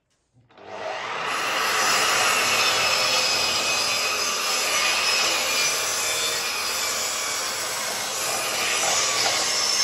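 A miter saw cuts reclaimed timber, spinning up sharply and then holding a loud, steady, bright whine of blade through wood for several seconds with no talking.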